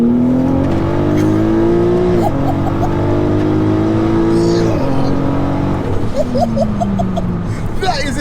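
A tuned 1187 bhp VW Golf R engine revs loudly and close, climbing through the gears with brief drops between shifts, while people talk faintly inside.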